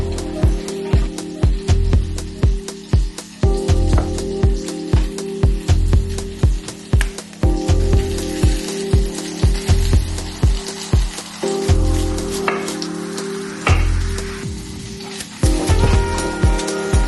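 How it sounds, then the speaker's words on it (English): Salt and pepper tofu frying in a pan, giving a steady broadband sizzle with a repeating pulsing rhythm that runs the whole time at close range. "I have been cooking up our tofu. So I'm doing some salt and pepper tofu"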